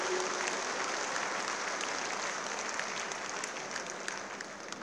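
Loud, sustained applause from a large audience welcoming Chief Minister Devendra Fadnavis at a political party convention in Shirdi, dense clapping steady throughout and tapering slightly at the end.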